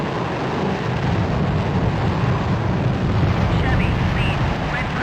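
Bombs dropped from an F-105 explode in the Vietnam-era flight game Strike Fighters 2, heard as a continuous rumbling roar of blasts under engine and wind noise, with no clear separate bangs.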